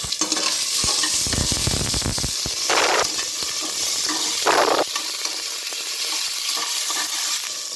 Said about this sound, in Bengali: টমেটোগুলো ভাজা ভাজা হয়ে গেছে